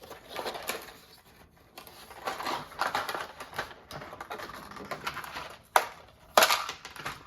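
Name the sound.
packing tape being pulled off a board game box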